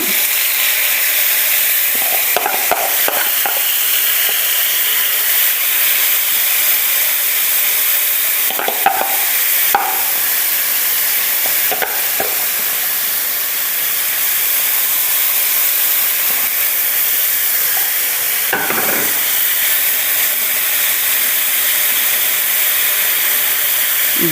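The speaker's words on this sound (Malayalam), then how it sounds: "വേപ്പില ഒന്ന് നന്നായിട്ടൊന്ന് മുരിയട്ടെ അപ്പോൾ ഞാൻ ഇതിൻ്റെ അകത്തേക്ക് ചെമ്മീൻ കോരിയിടാണ്" Dry prawns and curry leaves fry in hot oil with a loud, continuous sizzling hiss close up, and a few brief scrapes of stirring break in now and then.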